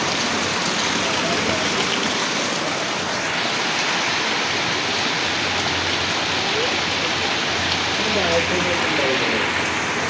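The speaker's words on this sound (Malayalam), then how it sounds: "നമ്മൾ ഇവിടെ നല്ല മഴയാണ് കേട്ടോ" Heavy rain pouring steadily, a dense, unbroken hiss of water that stays loud and even the whole time.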